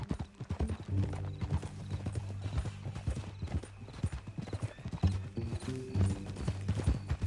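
Horse hooves clip-clop in the video game Red Dead Redemption 2, a steady rhythmic trot of hollow knocks close by, with a brief whinny and some faint background sounds.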